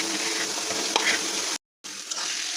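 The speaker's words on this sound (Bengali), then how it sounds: "শাকটা দিয়ে আমরা একটু ভাজা ভাজা করে নেব" Helencha greens frying in hot oil in a pan, a steady close sizzle with light stirring, broken by a brief silent gap before the frying hiss resumes.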